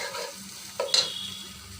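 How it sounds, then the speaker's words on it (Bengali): Fish roe frying in a pan with roasted cumin powder, a soft continuous sizzle broken by two quick scraping stirs near the middle, no voices. "এখন আমি নেড়ে চেড়ে এটাকে নামিয়ে নেব।"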